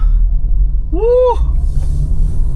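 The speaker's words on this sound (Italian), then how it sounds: "Senti come va leggera la macchina, sembra che voli adesso" A camper van driving on a smooth asphalt road in Argentina after more than a hundred kilometres of gravel, with a steady low engine and road rumble throughout and a brief tonal sweep near the middle.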